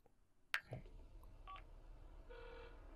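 In The Sims 4, a phone is dialed with a few short, distinct electronic key tones, quiet and spaced apart, after a brief sharp click.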